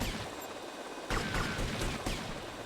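Gunfire aimed at a helicopter in the video game GTA Vice City, sharp cracks and bursts over a steady rotor drone, louder shots clustering from the middle onward, with no talk.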